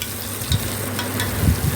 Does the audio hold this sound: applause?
no